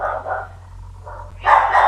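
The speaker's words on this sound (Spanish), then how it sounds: "mis perritas demasiado ladran" Small dogs bark indoors in a few short bursts, moderately close, with a louder, sharper flurry of yips at the end.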